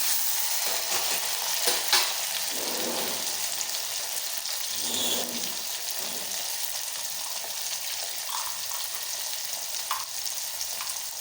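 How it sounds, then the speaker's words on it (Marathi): Curry leaves, garlic cloves, green chili and tomato fry in ghee over cumin and mustard seeds, producing a continuous crackling sizzle with occasional light stirring clinks. "कढीपत्ता लसूणच्या पाकळ्या हिरवी मिरची टोमॅटो आणि सगळं फ्राय करायचं"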